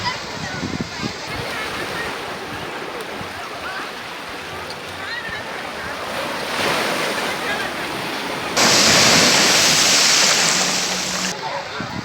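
Sea waves wash onto a crowded beach at Kavali during Karthika Pournami pilgrims' bathing. The surf roars continuously and swells louder as a wave breaks near the end.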